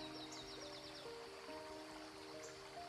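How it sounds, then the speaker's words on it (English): Waterfall in the lush forests of Chial near Ibusnita National Park in Romania, a steady broadband rush of flowing water with birdsong chirping over it, continuous and fairly soft throughout. "lies Vioga Waterfall, a breathtaking yet little-known wonder"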